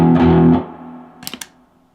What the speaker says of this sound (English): I'm going to use something that's called a distortion pedal.